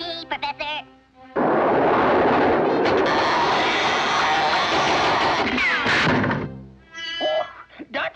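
Cartoon rocket blasting off for Mars and crashing down in a rough landing: a loud, sustained roaring rush with a rising whine near the end, framed by brief cartoon voices before and after.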